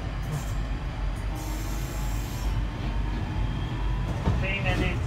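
London Underground Northern Line train running toward Edgware, a loud steady rumble of wheels and carriage noise from inside the car with faint squeals, while a voice speaks over it.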